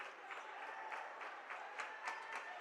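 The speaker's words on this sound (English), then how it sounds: "John Glenn fans cheering on their Muskie defense." High school boys basketball crowd at a John Glenn Muskies versus Indian Valley Braves game, with fans cheering their Muskie defense: faint, steady crowd noise of clapping and rhythmic cheering, heard from a distance.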